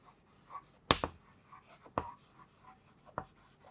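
Pen or chalk writing out a maths problem, a few sharp scratchy strokes and taps spaced irregularly, close and fairly quiet with no speech.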